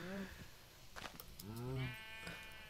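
Sheep bleating in a survival crafting video game, several wavering bleats from one or more animals, close and clear, alternating with a speaking voice.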